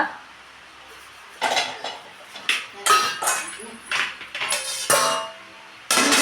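A pot is set down onto a heated tawa over a gas stove, producing a run of close, sharp metallic clanks and scrapes with short pauses between them.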